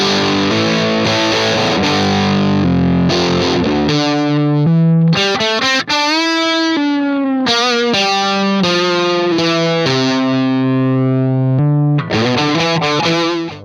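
Electric guitar played through the drop tune effect on a HeadRush pedalboard running firmware 2.1, loud and distorted, with sustained chords and single notes shifted down in pitch, continuous across the passage.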